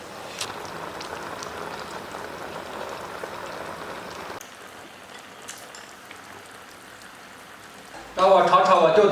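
Steady rain falls outdoors on a rainy day in rural Shaanxi, a continuous soft patter and hiss that eases slightly midway, with a voice breaking in loudly near the end.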